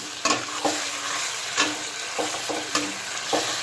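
Mussels stir-fried with plenty of basil leaves in a pan: a steady hiss of frying broken by sharp scraping stirs every half second or so, close and fairly loud.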